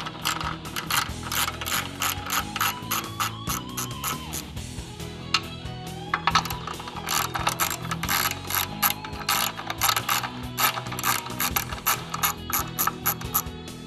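A hand ratchet clicks in quick, repeated bursts while bolts are loosened and backed out of the drum frame of a JLG Liftpod, with short pauses between strokes, close and clear.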